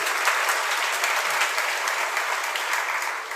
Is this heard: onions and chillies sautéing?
no